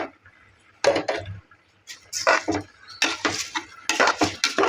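Washed rice goes into a cooking pot for quail biryani, making several short, close rattling bursts of grains hitting metal, separated by brief pauses.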